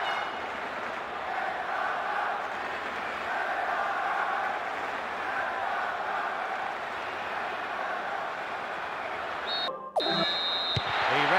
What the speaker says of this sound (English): The referee gets the game underway, and just listen to the crowd.